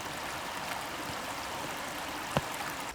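River water flowing steadily past, a continuous close babbling rush with one brief louder splash near the end, no talking.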